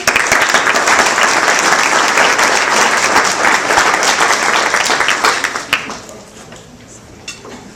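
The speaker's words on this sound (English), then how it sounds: "Give a round of applause, please." Audience applause at a community event, a full room clapping loud and steady for several seconds before thinning out and fading to a few scattered claps.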